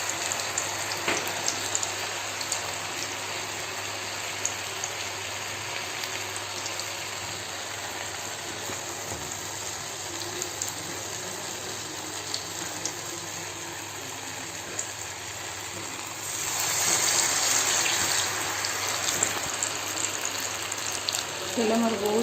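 Mahua flower bara fritters fry in oil over a medium gas flame, giving a steady broadband hiss that grows louder near the end, with a low hum underneath.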